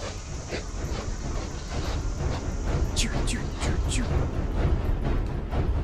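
A train rumbles along in the horror video game Poppy Playtime with a steady low rolling drone and a few squealing high tones, while someone talks over it.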